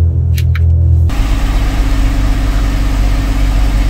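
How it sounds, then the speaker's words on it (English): Car engine with a ZF 8HP transmission idling just after starting during a transmission fluid fill: a loud, steady, low rumble that kicks in after about a second and continues alone, with no talk. "Okay, we started the vehicle."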